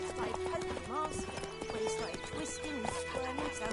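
Roach, the horse in The Witcher 3, trots with a quick, steady clip-clop of hooves and gives a whinny partway through, while someone talks over the hoofbeats.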